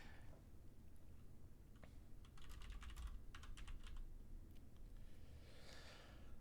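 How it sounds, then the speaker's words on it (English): Fingers type on a computer keyboard in bursts of rapid, fairly close clicks against a low steady room hum, with a quieter stretch before and after the main flurry. "I feel like I'm typing so many notes."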